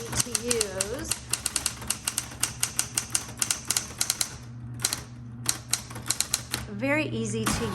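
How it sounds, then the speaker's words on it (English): Rapid clacking keystrokes on a 1960s Smith Corona Coronet Automatic 12 electric typewriter, close and crisp over a steady motor hum, with a carriage return near the end and a person talking. "Very easy to use typewriter, and I love how dark and clear that font is."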